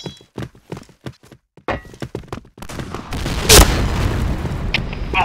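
A grenade goes off in a shooter video game, a heavy boom after a series of sharp thuds and footsteps, leaving a sustained roar of noise and debris.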